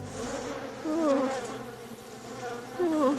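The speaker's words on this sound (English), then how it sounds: "A device designed to deploy a swarm of bees at a specific human target" A swarm of bees buzzing steadily and fairly close, with a wavering drone that swells twice as the insects pass.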